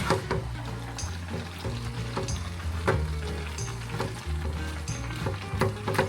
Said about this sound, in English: so now we need to mix together